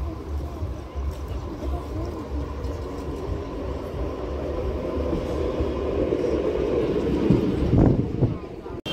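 A local train rumbles steadily at a railway station in Ranaghat on a cold morning, a continuous loud rolling drone with a brief clatter near the end, and people talk over it.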